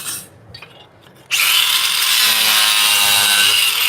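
A Millner Tool saw cuts through ceramic at a trade expo booth, a loud, steady, high-pitched grinding whine that bursts in abruptly after a brief quieter moment and holds without a break.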